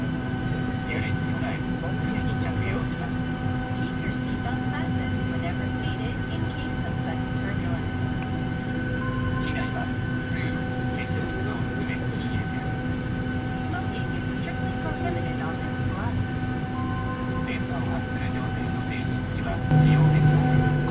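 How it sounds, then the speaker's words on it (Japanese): Cabin noise aboard a JAL airliner on an international flight during pushback: a steady, muffled low drone and hum throughout, with faint voices now and then and a slight swell near the end. "お、そんなこと言ってるとプッシュバック開始しました。"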